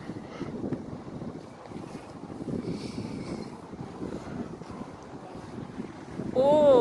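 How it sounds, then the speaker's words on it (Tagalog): Strong spring wind buffets the microphone outdoors near a church and school, a rough rumbling gust that swells toward the end, with a faint high whistle at the close. "So windy."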